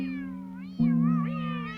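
A cartoon cat called Cosmic Cat lets out a drawn-out, wavering meow that climbs in pitch partway through, sounding alone over a steady low tonal hum.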